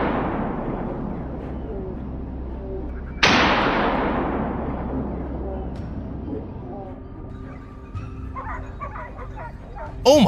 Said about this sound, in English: Alarm barks echoed through the air